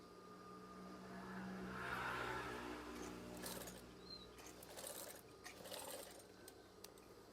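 A sewing machine stitches a curtain, its soft mechanical whir running continuously and fairly quiet, with faint light clicks and a brief high chirp partway through.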